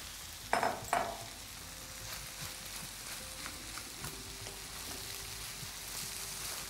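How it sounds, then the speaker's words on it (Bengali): Oil sizzles and crackles steadily in a pan with fried egg, with a couple of sharp clatters near the start as pilaf rice goes in and gets stirred. "এখন আমি পোলাওটা অ্যাড করে দেব।"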